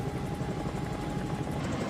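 Bell 222 helicopter touching down in a flight simulator, with a loud, steady rotor and turbine drone that holds unbroken throughout, no voices.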